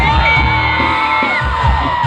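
A large outdoor concert crowd in Kalangga shouts and whoops together in a loud, sustained roar that swells and dips without a break.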